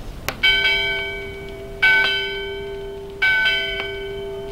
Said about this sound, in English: And ships at sea have bells that sound like this.